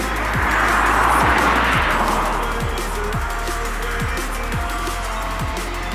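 A car comes up from behind a cyclist on a road bike, its engine and tyre roar swelling over steady wind noise and then easing slightly as it nears.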